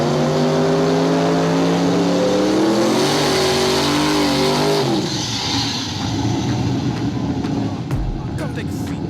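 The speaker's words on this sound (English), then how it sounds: "Race number 4, round 2, is Palmer in the silver Mustang versus Turbo Joe in the Regal." Silver Mustang and turbo Buick Regal launch in a street drag race, engines revving hard with rising gear-change tones, then a loud roaring pass fading into crowd noise and a sharp thud near the end.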